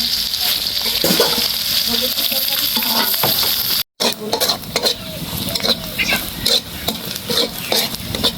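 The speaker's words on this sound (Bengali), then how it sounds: "চিংড়ি মাছ ভাজা হয়ে গেছে চিংড়ি মাছের সাথে হচ্ছে পেঁয়াজ ভাজতেছি" Shrimp and onions fry in hot oil, giving a loud, steady sizzle with scraping stirring strokes and a brief break partway through.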